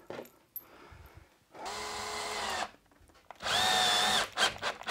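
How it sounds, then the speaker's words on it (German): Power drill driving screws to join workbench panels: two loud, close bursts of whining motor about a second each, the second higher and sharper, separated by brief quiet handling noise, with no talk. "So, ich schraube erstmal die Platten zusammen."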